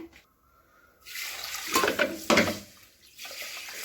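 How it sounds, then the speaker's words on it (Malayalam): Water splashes and pours steadily into a pot of fish curry for a couple of seconds after a quiet start, then tapers off. "വെള്ളം കൂടി ചേർത്ത് കൊടുത്തിട്ടുണ്ട്"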